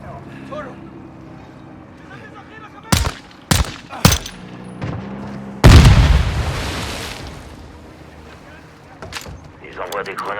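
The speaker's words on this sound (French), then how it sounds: "Ils envoient des grenades dans l'eau." Grenades exploding in water during a Modern Warfare 2 campaign mission on the docks: several sharp cracks followed by one heavy booming splash that rumbles and fades, with game voices talking.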